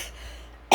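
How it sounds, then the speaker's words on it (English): A woman coughs and clears her throat once, a short loud burst near the mic at the very end after a quiet stretch. "As soon as I start talking, I start coughing."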